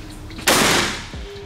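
A single sharp .38 revolver shot fired at a padlock, a loud close-range crack with a ringing decay, followed by a brief low thump.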